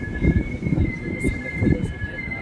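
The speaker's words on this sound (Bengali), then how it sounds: "ট্রেন একটা প্ল্যাটফর্মের সামনেই দাঁড়িয়েছে।" A passenger train standing at a station platform gives a steady rumbling hum with a sustained high electrical whine, loud and close, with no talk over it.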